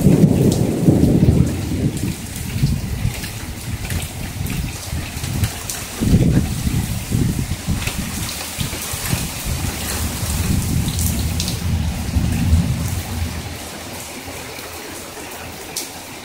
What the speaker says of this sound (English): Maybe I can wait for the rain to let up a little bit.